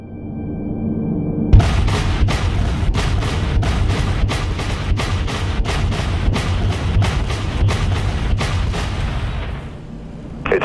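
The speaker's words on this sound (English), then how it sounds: "Now switch to flak turrets and target it again." Flak turrets of a warship in the Dreadnought video game firing a rapid, steady run of heavy booming shots, roughly a dozen evenly spaced blasts over a low rumble, stopping near the end.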